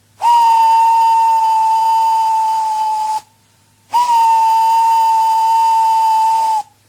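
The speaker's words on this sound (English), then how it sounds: "Gordon went on whistling and whistling and whistling." A steam locomotive whistle blows two long, loud, steady blasts separated by a brief pause. Each blast holds a shrill, unwavering pitch with no voices.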